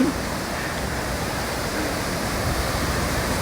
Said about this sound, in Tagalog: Narinig nyo ba yung alon?